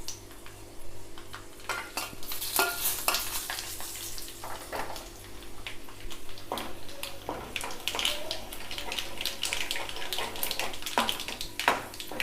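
Dried red chillies fry in tempering oil for a sesame roti chutney, a soft continuous sizzle broken by clinks of a spoon against the pan, close by.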